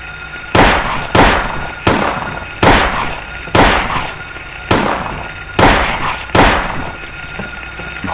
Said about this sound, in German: Warum geht immer ein Schuss daneben, Harry?